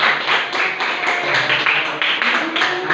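A classroom group of students claps for the first group, a lively patter of hand claps in rapid, uneven bursts that stays fairly loud throughout.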